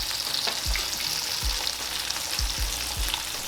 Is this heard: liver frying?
yes